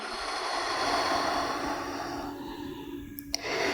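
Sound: deep breath exhaled through the mouth

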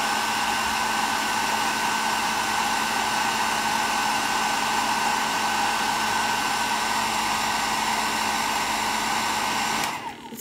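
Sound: dryer blowing on clay

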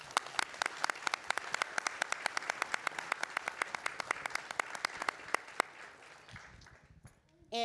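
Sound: audience applause for contestants

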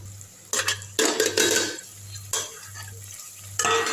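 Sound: sautéing herbs and ingredients in a pan

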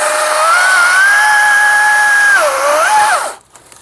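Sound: battery chainsaw cutting wood

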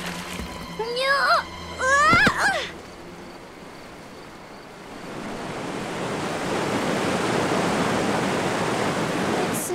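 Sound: waterfall in an animated cartoon

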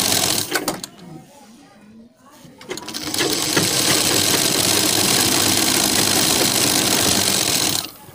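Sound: sewing machine stitching along the edge of fabric

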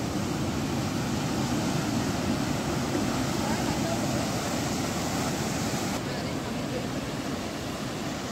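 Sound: rough sea waves at Chivla beach, Malvan

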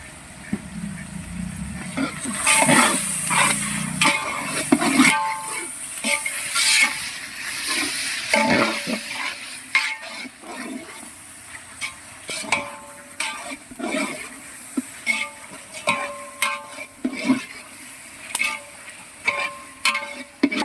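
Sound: tomatoes sautéing in a pan for biryani

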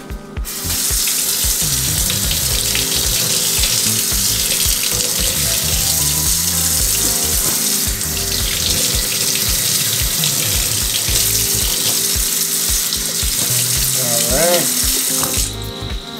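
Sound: rinsing Jordan 3 sneakers under running tap water

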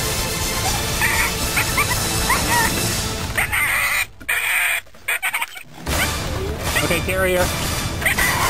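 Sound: wild puppy yelping and barking

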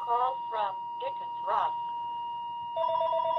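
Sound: telephone ringing

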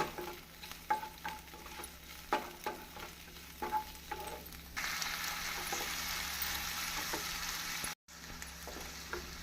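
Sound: sautéing tomatoes with ginger garlic paste for kulambu

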